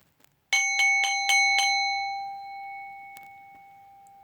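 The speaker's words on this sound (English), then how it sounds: "I will also ring a bell, beginning, middle, and end of the healing session." A hand bell rung at the opening of a spiritual healing session: five quick, close, bright strikes whose clear metallic tone rings on and slowly fades, with a faint click later.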